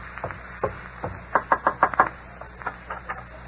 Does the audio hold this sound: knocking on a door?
yes